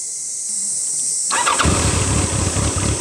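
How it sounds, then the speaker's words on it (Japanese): A 1988 Kawasaki Ninja ZX-10 motorcycle engine with a non-stock muffler cranks and fires up after a quiet moment, settling into a loud, deep, throbbing idle close by. "ちょっとエンジンかけさせてもらいます。"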